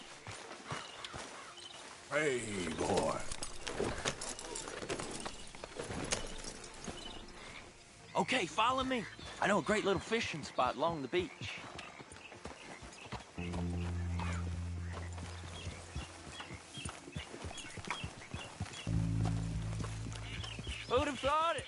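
Horse hooves clip-clopping in Red Dead Redemption 2 as riders head toward a beach fishing spot, a rhythmic trot under talking voices and background music, steady and close.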